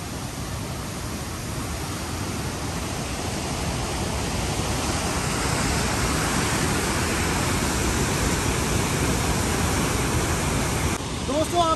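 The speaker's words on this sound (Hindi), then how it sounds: "आप पानी की स्पीड चेक करें यार कितना तेज पानी है जा रहा है यहाँ से देखें" Fast-flowing floodwater of the Chenab River at Head Marala, Sialkot, in 2023 rushes with a loud, constant broadband roar that stays steady throughout, heard close up.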